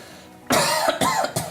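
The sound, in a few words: patient coughing during medical examination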